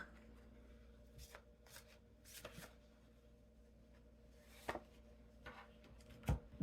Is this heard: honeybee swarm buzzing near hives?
no